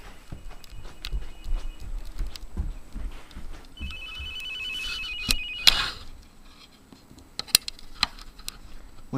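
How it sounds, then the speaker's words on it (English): A landline-style ring tone sounds briefly in the middle of a room full of knocks, shuffling footsteps and handling noise, the call placed over a magicJack internet phone service. "Now the phone's ringing."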